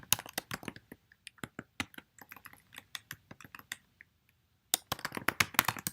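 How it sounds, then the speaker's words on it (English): Someone types on a computer keyboard in quick, irregular bursts of crisp, close key clicks, with a short pause before a final rapid flurry. "And I'll type in anything I want"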